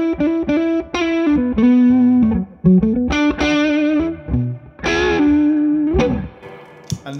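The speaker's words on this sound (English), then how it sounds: "Just if you want to hear the classic reverb." Electric guitar played through a Friedman Dirty Shirley amplifier with classic reverb, a loud, driven, slightly distorted tone: chords and single notes ring out in phrases, each tail blooming with reverb before the next strike.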